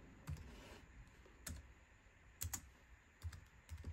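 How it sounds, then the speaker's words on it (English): Sparse keystrokes on a computer keyboard, a few isolated clicks and a quick double tap, quiet and close over a faint steady hiss. "And now we are going to type in"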